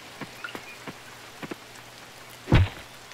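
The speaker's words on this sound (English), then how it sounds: "Oh, it's the rain." Light rain patters steadily in the Coral Island farming game, with a few sharper drops standing out and a brief heavier thud near the end.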